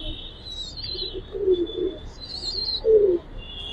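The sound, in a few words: Giribaz pigeons in a loft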